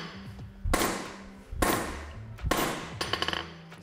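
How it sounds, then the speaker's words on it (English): A hand hammer striking a piece of magnesium alloy during a forging attempt: three hard, sharp metallic blows about a second apart, each ringing briefly, the last followed by a quick rattle of smaller taps. "With the hand hammer."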